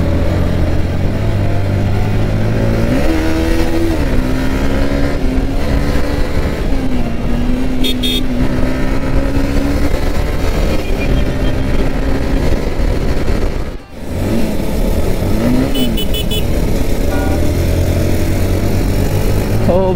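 KTM RC390 and RR310 motorcycles accelerate through busy city traffic, a steady loud engine drone with rising pitch sweeps as the riders pull away, continuous throughout with a brief dip near the middle.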